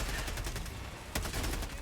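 Rapid bursts of laser cannon fire from Helldivers 2 crackle through a dense combat mix, with a sharp louder volley near the end standing out against the continuous battle noise.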